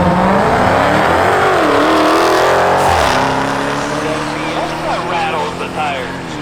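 A tuned Stage 2 Mk7.5 Golf R launches at a drag strip, its engine loud and close, rising in pitch, dipping, then climbing again as it pulls away, while people talk nearby.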